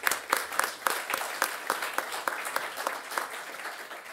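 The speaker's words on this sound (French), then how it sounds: "On vous applaudit pour cette performance." An audience at an energy-saving conference gives a moderate round of applause, scattered sharp claps over a soft wash of clapping, fairly close and without talk.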